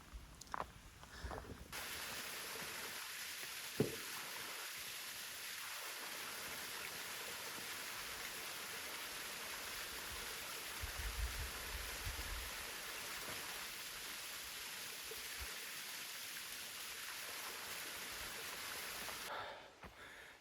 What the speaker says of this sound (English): That was Gibbs Falls.